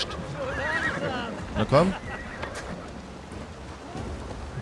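Horse whinnying in the video game Assassin's Creed Valhalla, a single short neigh rising briefly amid game ambience, with someone speaking over it.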